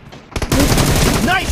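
Rapid bursts of machine-gun fire in a team deathmatch shooter game, loud and close, starting with a few quick shots then a sustained volley, with a voice briefly heard over it.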